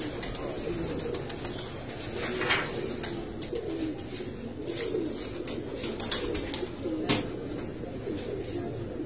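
Pigeons cooing steadily on a rooftop loft, a continuous layered chorus of soft low coos with occasional louder calls nearby.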